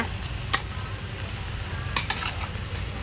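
Two eggs being scrambled in a hot wok for Thai pad see ew with wide rice noodles, with a steady sizzle and a few sharp clicks of a spatula stirring and scraping.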